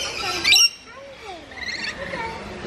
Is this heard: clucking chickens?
no